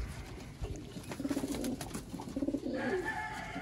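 Sialkoti rooftop pigeons coo in repeated rolling bursts, two clear runs of soft throaty calls close by, with faint background noise and no talk.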